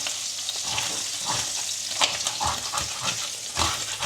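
An egg fries in spattering hot oil, giving a steady loud sizzle broken by sharp pops and crackles all the way through. No one speaks.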